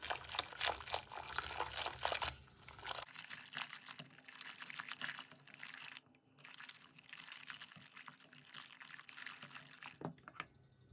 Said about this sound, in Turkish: sıcak suyumu da ekliyorum.